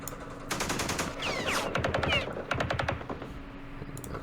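Rapid machine-gun and rifle fire in the Vietnam wargame Campaign Series Vietnam, Battle of Hue, rattling in fast repeated bursts for about three seconds, fairly close and loud, then trailing off into a few scattered shots.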